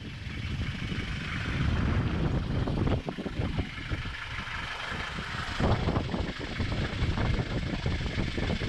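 A sailboat's inboard engine runs after a leaking crack was sealed with Sikaflex, giving a steady, close mechanical rumble with a rattling rhythm and no voices.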